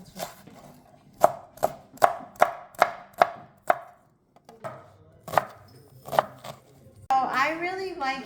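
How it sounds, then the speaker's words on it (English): A knife chopping an onion on a board, roughly a dozen sharp, evenly spaced cuts close up, a short pause, then a few more chops and a brief rustle at the end. "We're gonna hopefully cut a better onion."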